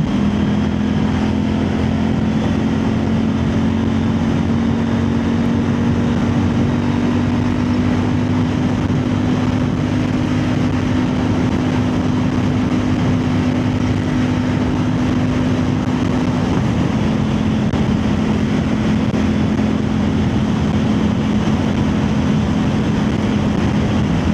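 A steady engine drone with a constant low hum runs throughout, loud and close, from a CFMOTO 800NK motorcycle cruising at speed in sport mode with wind noise.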